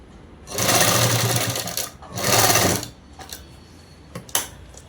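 A sewing machine stitching a dress collar, two bursts of close, loud whirring stitching of about a second and a half each, followed by a few short clicks and taps.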